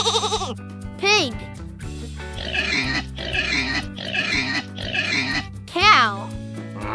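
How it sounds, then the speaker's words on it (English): A pig oinks and grunts in a quick run of snorting calls, close and loud, framed by brief squeaky voice-like sounds over a soft musical bed. "Pig."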